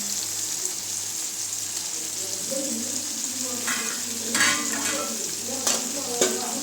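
Maggi noodles seasoned with chilli powder and black masala are stirred in a pan, a soft steady scraping and sizzle with a few louder clinks of the spoon toward the end.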